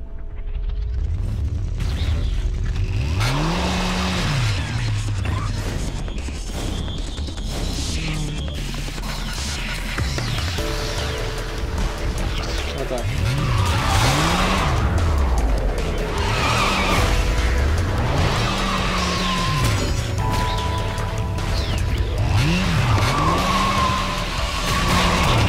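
Motorcycles race and skid through Bayonetta, arcing engine whines rising and falling in repeated sweeps over a constant loud roar of game effects, music and crashes.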